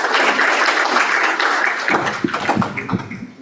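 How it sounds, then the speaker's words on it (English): Meeting audience applause, loud and steady clapping that thins out in the second half into scattered claps with a voice briefly mixed in. "Let's keep the applause rolling,"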